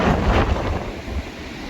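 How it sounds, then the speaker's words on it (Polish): Wind and waves on the Baltic Sea aboard a ferry form a loud, steady roar of gusting air and sea noise buffeting the microphone. "Dzisiaj fale są większe. Oj, będzie ciekawie. Wieje dosyć mocno."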